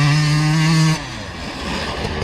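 A motorcycle engine revs loudly and steadily for about a second and then cuts off, leaving a fainter, rougher mechanical rumble during training on a sand track.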